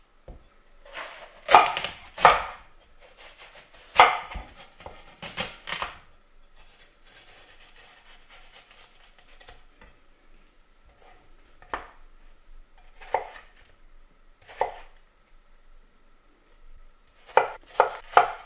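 Knife cutting watermelon into cubes on a board, a sequence of crisp chopping knocks in quick clusters, separated by quiet pauses.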